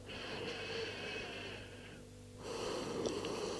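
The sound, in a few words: breathing while lying on a yoga mat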